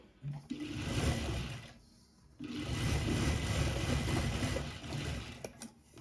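A sewing machine runs close by, making a fine final seam on a fancy sharara top. It whirs steadily in two runs separated by a short pause.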